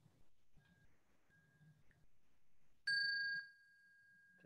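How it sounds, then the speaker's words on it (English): A bell rung to close a workshop session: one bright, clear ring with a sustained ringing tone that fades over about half a second, after a quiet stretch with soft murmuring and a faint lingering tone. "we'll ring the bell"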